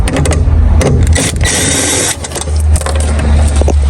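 Ratchet working 12 mm seat bolts loose inside a Lexus, loud close rapid clicking in bursts with mechanical grinding and a brief pause midway, no talk.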